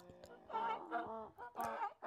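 A hen clucks while laying eggs in a series of short, nasal, pitched calls with brief pauses between them, fairly close and clear.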